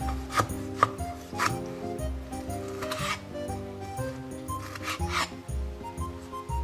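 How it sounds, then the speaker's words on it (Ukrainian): A knife cuts tomatoes in half on a board in several irregular strokes, with light clicks and scraping close up. "Кожну помідоринку розрізаємо пополам."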